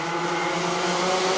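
Rotax Mini racing karts scream past at the Wackersdorf circuit as they enter a turn, a loud, sustained high-revving engine whine with a steady pitch and no talk.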